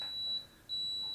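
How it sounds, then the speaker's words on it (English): An Eachine CG023 toy drone remote control beeps in headless mode, giving a high, piercing electronic tone that sounds twice with a short gap between. The beeps are loud and clear against quiet background noise. "constant beeping of the remote in headless mode, and it's a loud beep"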